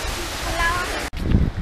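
Jungbang waterfall at Seogwipo on Jeju Island sends up a steady, broadband roar, with voices talking over it, a brief dropout near the middle, then heavier, closer rumbling.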